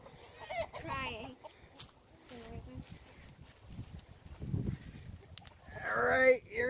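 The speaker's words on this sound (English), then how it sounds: "Look at all those chickens." Hens cluck in scattered bursts amid farmyard noise, with people talking nearby and a voice rising toward the end.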